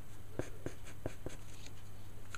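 Derwent drawing pencils sketching on paper, four or five short close scratchy strokes over a low steady hum.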